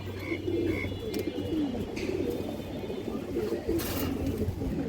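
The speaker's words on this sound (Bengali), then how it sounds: "পিওর একটা মাদি কবুতর" Pigeons at a pigeon seller's loft coo in soft, low repeated calls, several birds overlapping in a continuous murmur with brief rustles nearby.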